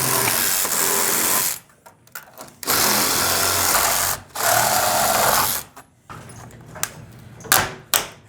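Power saw fitted with a metal-cutting blade cutting into a wall, a loud, close, rapid buzzing rattle in several long bursts separated by short pauses and clunks, with the last bursts shorter and choppier.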